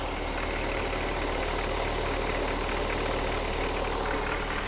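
A remanufactured engine in a Bobcat T190 skid steer idles steadily just after starting, a constant close rumble with a low, even knock and no voices.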